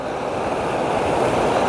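Monsoon water rushes loudly and steadily at the Walheri waterfall river crossing, a dense, continuous roar heard close and alone.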